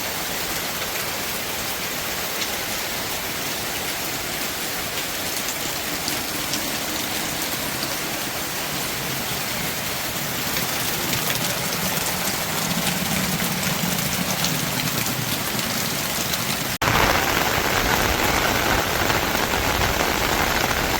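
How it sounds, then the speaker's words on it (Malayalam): Light monsoon rain falls steadily on the open central courtyard of a large Kerala house, a continuous close hiss of drops with a faint low hum underneath and no voices. "മഴ പെയ്തു"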